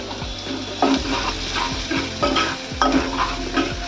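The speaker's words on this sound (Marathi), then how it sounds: "आपण आता ते कांदा टाकूया थोडंसं बारीक फोडण्यासाठी ठेवले. गॅस फास्ट ठेवलाय" Onion frying over high heat in a pan after asafoetida for a clam curry: a steady close sizzle with repeated scraping strokes of a spatula at a regular rhythm, no voices.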